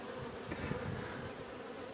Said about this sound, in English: we got a bunch of forage bees in the air